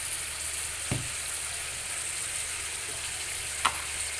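Garlic, red chili and turmeric frying in a pan, a continuous close sizzle with a couple of brief scraping stirs or clinks partway through, no talking.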